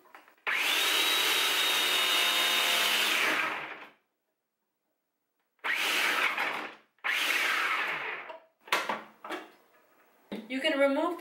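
A food processor whirs as it slices cucumber on setting 1, with the food pusher pressing the pieces down. It runs in one long steady burst, stops, then comes back in several shorter bursts, with a higher whining tone near the end.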